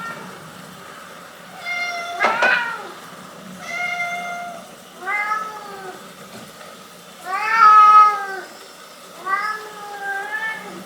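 Several house cats meowing close by, about six drawn-out, rising and falling cries spaced a second or two apart, with a few quieter sounds between them.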